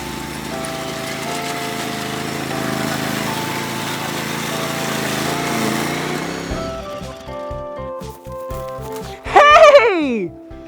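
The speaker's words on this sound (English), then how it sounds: "Yeah, it's a lawnmower." A lawn mower engine drones steadily and loudly, then cuts to quieter rhythmic thumping with a brief high sweeping sound near the end, in a children's yard-work setting.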